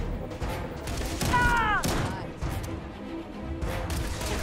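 Gunfire in a Starfield firefight, a cluster of loud shots and crashing impacts with a short whining sweep over continuous game noise, a busy burst in the middle then steady rumble.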